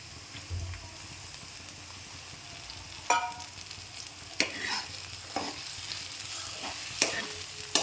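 Soaked masala sizzles in a pan while a spoon periodically scrapes and stirs it, sharp metallic clacks breaking over a low, steady frying hiss, close up with no voices.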